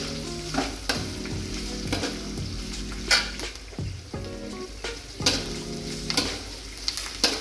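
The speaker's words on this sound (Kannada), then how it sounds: "ಆಮೇಲೆ ಚೆನ್ನಾಗಿ ಹುರ್ಕೋಬೇಕು, ಫ್ರೈ ಮಾಡಬೇಕು. ಈಗ ಈರುಳ್ಳಿ ಹಾಕತ್ತೀವಿ ನೋಡಿ" Chopped onion frying and sizzling in a hot pan while making uppit, with a steady hiss broken by repeated stirring clinks and scrapes of a spoon against the pan.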